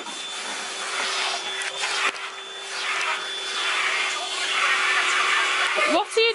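A vacuum cleaner hoovers someone's hair during a family clean-up at home before Christmas, a steady close whine and rush of suction holding for about six seconds with a faint thump near the end.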